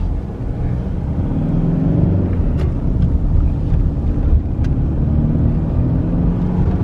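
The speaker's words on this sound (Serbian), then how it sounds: "doslovno pipnete gas, odmah ide, evo gledajte ovo" A car engine rumbling steadily and loud from inside the cabin as the gas is pressed, with road and wind noise and no voices.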